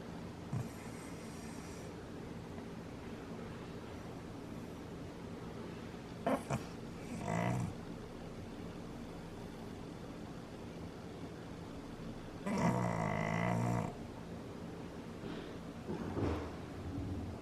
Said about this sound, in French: Jadou, t'as pas fini de ronfler comme ça?